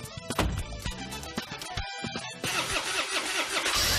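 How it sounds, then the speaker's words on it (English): A brand new car's engine cranks and turns over on a game show stage amid music and crowd noise, then catches and runs with a loud, steady roar that carries to the end. "We'll start that car."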